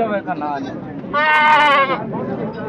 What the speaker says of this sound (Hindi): ये गोजरी बकरी है ना?